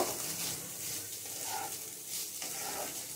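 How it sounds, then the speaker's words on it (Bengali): Salt and spice powder stirred into chira pulao (flattened rice) in a pan, a soft steady scraping and rustling with faint sizzle underneath, no voices. "আর দেব নুন, দিয়ে আমি এটা মিশিয়ে নেব"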